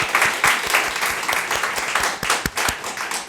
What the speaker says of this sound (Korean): 우리 함께 박수해 주시기 바랍니다